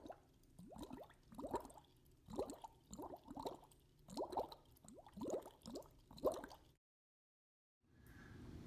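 Air pulses bubble through water inside a plumbing pipe, making a faint, boil-like gurgling with repeated soft plops and squishes in an irregular rhythm. It stops abruptly into silence before low noise returns.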